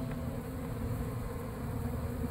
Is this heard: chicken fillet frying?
no